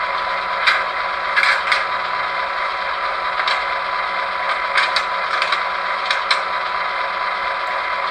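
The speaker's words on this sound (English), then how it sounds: "Function 23 is our engine compartment door." Soft clicks and creaks scattered over a steady mechanical hum, a few light knocks grouped in pairs, fairly close and not loud: the engine compartment door sound of a ScaleTrains Southern Pacific SD7R model locomotive with LokSound v5.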